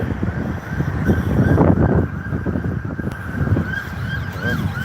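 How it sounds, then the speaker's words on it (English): A faint ambulance siren wails in the distance in Phoenix Park, partly buried under heavy, rumbling background noise and gusts. "Another ambulance. I'm telling you, the amount of ambulances."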